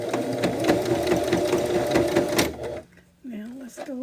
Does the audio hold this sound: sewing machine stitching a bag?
yes